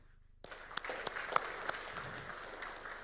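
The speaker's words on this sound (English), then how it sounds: "I would like to give a big round of applause to every single person in this hall" After a brief quiet moment, an audience in a hall breaks into applause at a training event, scattered sharp claps building into steady moderate clapping that continues to the end.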